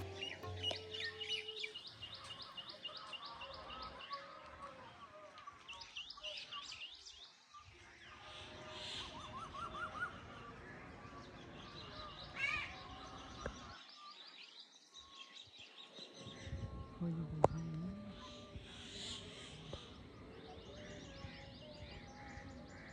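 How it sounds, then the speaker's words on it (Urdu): Birds chirp and tweet in a quiet graveyard, scattered calls near and far with a clucking fowl now and then, over a low, faint outdoor background with a few brief lulls. "پورے قبرستان میں خاموشی کا عالم ہے، لیکن پرندے چہک رہے ہیں"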